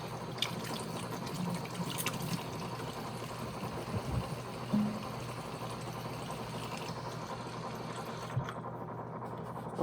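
Water runs and pours into a small cup for a homemade honey and egg hair mask, a steady close trickling wash with a few light knocks of handling.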